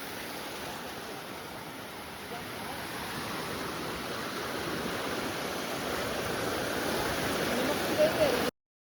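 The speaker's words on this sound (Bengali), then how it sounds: "এখন জাস্ট ডাইরেক্টলি আমার সামনেই বিচের জল" Steady broadband wash of beach surf at Havelock, a continuous rushing roar that swells slightly louder toward the end, heard alone without voices.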